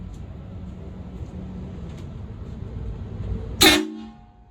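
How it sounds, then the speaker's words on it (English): A HornBlasters 244 train horn kit on a GMC, aired up to 150 psi, sounds a single short, piercing blast near the end, close and very loud after a stretch of low rumbling background. "So I'll go ahead and hit the horns and see how loud it is."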